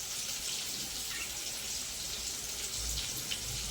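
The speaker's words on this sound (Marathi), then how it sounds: "हे बघा मुगाची डाळ धुवून घेते चांगली" Moong dal being rinsed in water in a home kitchen, a steady splashing and trickling wash that runs continuously at close range with no talking.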